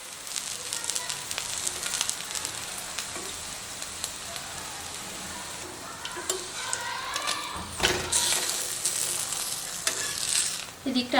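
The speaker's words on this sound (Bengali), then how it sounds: "তো দেখুন একদিকটা খুব সুন্দরভাবে হয়ে গেছে ভাজা, আবার আরেক দিকটা হোক ভালোভাবে" Aloo paratha frying in a pan on medium flame, a continuous close sizzle with occasional pressing and scraping noises and a louder burst of spattering toward the end.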